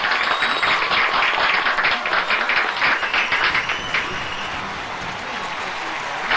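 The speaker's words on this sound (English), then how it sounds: "I'm doing gesture applauses." Applause from avatar gestures at a Second Life Grid Games motorsport medal ceremony, a dense wash of clapping that is loud at first, then thins and settles into a softer steady patter.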